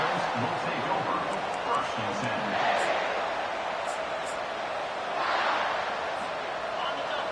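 Football stadium crowd at a South Carolina game roaring steadily throughout, a dense broad wash of cheering that swells twice, with a commentator's voice running over it.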